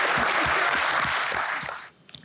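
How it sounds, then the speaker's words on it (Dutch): Warm audience applause at a Dutch talk on agriculture and the estate model, a dense steady clatter of many hands that carries for almost two seconds before thinning out into a few scattered claps. "Dus geef een warm applaus."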